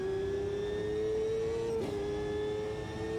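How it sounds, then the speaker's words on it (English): A formula race car engine in the Automobilista 2 racing game holds a smooth, steady whine at constant pitch, with a thin, almost electric tone and no talking over it. "that engine sound makes it sound a bit like an electric vehicle"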